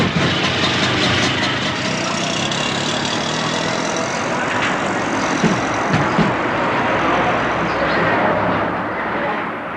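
An auto rickshaw's small engine runs with a steady, loud, rattling drone, holding constant throughout with faint background noise.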